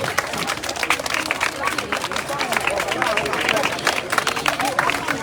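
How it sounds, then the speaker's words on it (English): A crowd keeps up sustained clapping at a political manifesto gathering: a continuous, busy wash of many hands with murmuring voices underneath, steady and close for several seconds. "So keep clapping."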